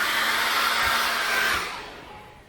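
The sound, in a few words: hairdryer drying acrylic paint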